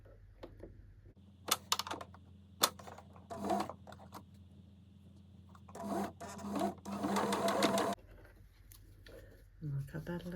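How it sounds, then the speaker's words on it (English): A sewing machine stitches elastic onto a skirt in short bursts of fast mechanical rattling, with quieter handling sounds and pauses between runs, close and moderately soft. "Sew this end up."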